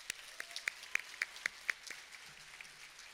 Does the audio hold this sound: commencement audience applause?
yes